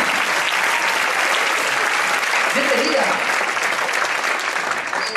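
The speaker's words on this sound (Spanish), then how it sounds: "se produce un aplauso espontáneo" Spontaneous applause from a magic gala audience greets a volunteer coming on stage, a loud, continuous clapping wash with a brief spoken welcome in the middle.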